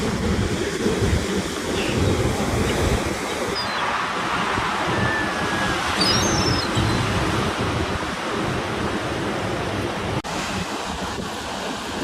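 Surf rolls and washes steadily along a beach on a cold October day, a continuous roar of waves mixed with wind buffeting the microphone, with no one speaking.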